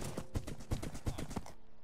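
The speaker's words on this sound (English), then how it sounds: "Oh, my horse is still here." Horse hooves clip-clop at a quick, even trot in Minecraft, a run of soft rhythmic thuds close by that stops abruptly, with no talk over them.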